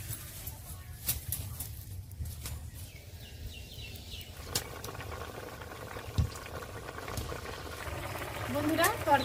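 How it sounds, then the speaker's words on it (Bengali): A papaya and prawn curry simmers in a pot, giving a soft bubbling and patter that grows louder toward the end, with a few clinks and faint talk in the background. "তরকারিটা ভালো করে ফুটিয়ে ঝোলটা কমিয়ে নেব।"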